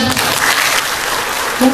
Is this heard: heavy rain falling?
no